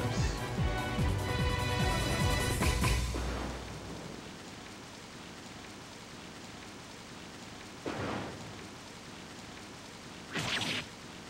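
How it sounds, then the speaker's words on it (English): Rain in the Samurai Warriors video game, a steady hiss of falling rain heard alone after a louder burst at the start, with brief swells partway through. "If it were not for this rain."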